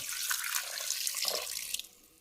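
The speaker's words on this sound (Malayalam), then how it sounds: "ഇതേ നമുക്ക് നിരക്കെ വെള്ളം ഒഴിച്ച് കൊടുക്കാം" Water pours steadily into a cooking pot while making crispy chicken legs, with a splashing, hissing rush, close and moderately quiet, then tapers off near the end.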